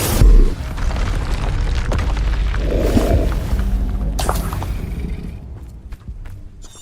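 A Confringo blasting spell goes off in Hogwarts Legacy, giving a loud booming burst at the start and then a rumbling crackle that fades out over several seconds. No voices are heard.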